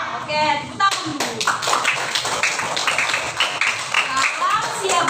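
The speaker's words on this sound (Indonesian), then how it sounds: "tepuk tangan dulu" Children clapping hands in a second-grade classroom, a quick burst of loud, close claps mixed with kids' voices and chatter throughout.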